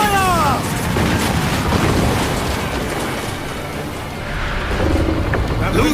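Ship cannons boom in a naval battle in Assassin's Creed Black Flag: deep, heavy blasts roll and rumble under battle noise, with a shouted voice among them.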